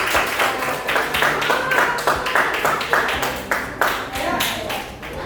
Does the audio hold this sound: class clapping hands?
yes